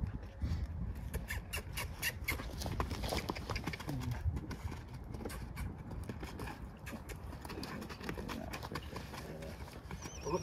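A gaited horse moves at a flat walk, its hooves making a steady, close clip-clop rhythm throughout, with some low background noise underneath.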